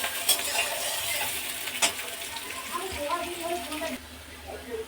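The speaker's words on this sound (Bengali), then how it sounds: "পেঁয়াজগুলো হালকা একটু লাল করে ভেজে নেব।" Sliced onions frying in hot mustard oil in a kadai, a steady sizzle with stirring scrapes and a couple of sharp clinks, heard close with faint background voices.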